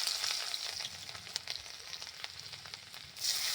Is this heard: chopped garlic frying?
yes